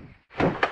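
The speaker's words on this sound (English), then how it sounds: "Touch the doors of the train to close them." Animated train doors in the Peppa Pig train ride game shut with a short thunk followed by a second quick knock, brief and fairly close.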